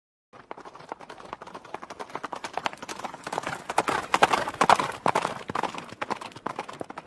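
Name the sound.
horse hooves galloping, dramatized sound effect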